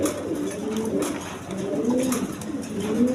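Cooing from a pair of Angel pigeons, low soft rolling coos repeating steadily and fairly close, with faint rustling behind and no talk.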